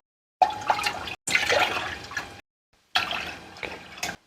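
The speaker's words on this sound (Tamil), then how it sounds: "நம்ம மாவு எடுத்த கப்பில் இப்போ நாலு கப்பு தண்ணி ஊற்றிட்டு நல்லா இப்போ கொதிக்க வைக்க போகிறோம்" Water pours in three separate bursts with short pauses between, a splashing, hollow rush filling a cooking pot close by, poured from a cup.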